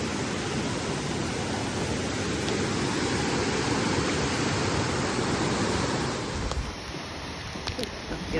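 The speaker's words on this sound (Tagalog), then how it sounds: "But this water, guys, this is from the falls." Strong rushing water from Franklin Falls waterfall, a loud steady broadband roar that stays constant for most of the clip before easing slightly near the end.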